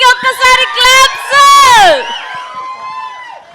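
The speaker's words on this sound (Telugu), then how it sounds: "గట్టిగా వీళ్ళిద్దరికి ఒక్కసారి క్లాప్స్." A crowd at a live film teaser launch erupts into loud, close cheering, with high-pitched whoops and shrieks rising over the din before tapering into a softer murmur.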